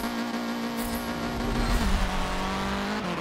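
Dodge Demon muscle car in Forza Motorsport 7, a loud continuous engine drone with a steady pitch that drops slightly partway through, alongside tire noise and racing game sounds.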